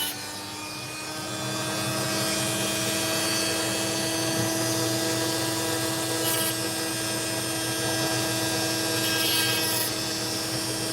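Aggressive cutting blade spinning against a Coober Pedy opal, a steady whining drone at moderate loudness with a faint grinding texture, holding level for about ten seconds; no talk.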